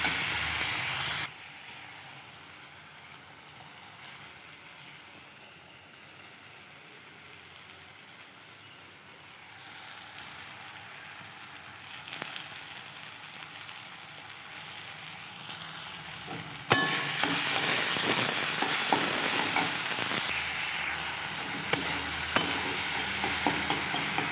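Tomato and spice masala sizzles steadily in a pan, a continuous frying hiss that grows louder and brighter partway through, with occasional scraping stirs and no talking.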